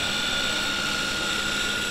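An electric motor on a very light RC model Junkers Ju 52 airplane with a 4.5-metre wingspan runs at a steady high whine and a constant level for the whole moment.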